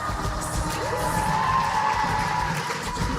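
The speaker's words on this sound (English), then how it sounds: "The crowd is going wild" At a wheel gymnastics world championship individual final, a large crowd keeps up a continuous roar of cheering and whooping, loud and sustained throughout, with a faint announcer-like voice in the mix.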